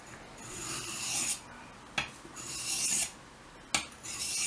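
Steel blade being sharpened on a sharpening stone, slow rhythmic rasping strokes with brief knocks between passes, close and fairly quiet, no voices.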